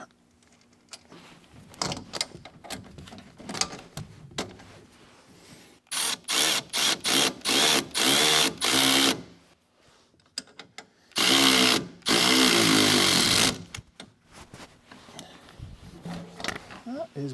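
A Cushman Trackster suspension is worked on as lock washer bolts get tightened: loud bursts of a whirring power driver alternate with quieter talk and clanks, two long spins dominating the middle.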